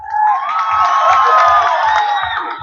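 Crowd at the Barishal rural and cottage industries fair, held at the army cantonment, cheers and claps loudly and steadily for about three seconds, with a dense wash of voices and a soft low thump repeating underneath.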